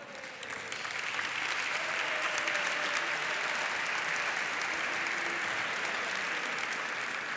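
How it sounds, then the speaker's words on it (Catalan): Steady crowd applause for engineering graduates at a university graduation ceremony, building in the first second and then holding even and fairly distant for several seconds, with a faint voice briefly audible early on. "Un fort aplaudiment per tots ells"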